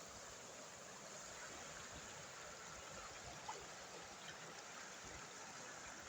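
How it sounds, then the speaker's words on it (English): A creek flows in a faint, even rush on a sunny day at a gold-digging spot, the steady wash of moving water holding constant throughout with no voices. "just a beautiful sunshiny day on the creek"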